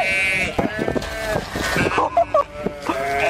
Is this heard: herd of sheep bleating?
yes